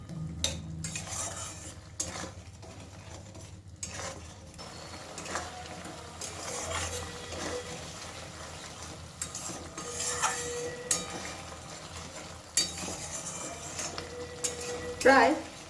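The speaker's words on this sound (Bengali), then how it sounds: "সব কিছু একসাথে খুব ভালো করে মিশিয়ে কষাতে থাকবো বেশ কয়েক মিনিট ধরে।" Cauliflower curry with spices being stirred and sautéed in a pan: a spoon scrapes and clinks against the metal in irregular bursts over a soft, steady sizzle, with occasional louder knocks.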